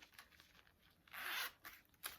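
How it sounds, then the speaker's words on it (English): The zipper on a patterned wristlet from Juncture rasps open or closed in a few quick, soft pulls, with one longer stroke in the middle, close up against a quiet background. "now we found the same design on a wristlet from Juncture with the zipper up here"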